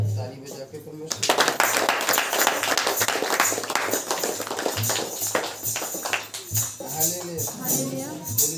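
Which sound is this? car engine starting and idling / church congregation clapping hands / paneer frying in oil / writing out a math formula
church congregation clapping hands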